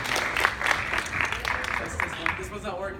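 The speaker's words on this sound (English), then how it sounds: "Let's give a round of applause for Zack's speech." Audience applause following a speech at a school awards-style event, a dense wash of clapping that holds steady for a few seconds with some talk mixed in.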